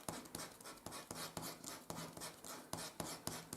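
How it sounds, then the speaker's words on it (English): Paper blending stump tip sanded to a point on sandpaper, a dry rhythmic rasping with short strokes repeating steadily about three per second, close and clear, no voices. "if you want to make it to a point, you sand around the very bottom edge"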